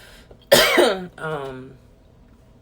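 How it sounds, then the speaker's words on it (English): A single harsh, close cough trailing into a rough, throaty rasp, then quiet. "so I'm going to cough a little bit."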